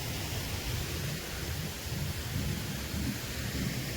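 Water pours down the steps of a reservoir overflow in a wooded nature reserve clough, a steady, dense roar of rushing flow that fills the whole stretch without pause.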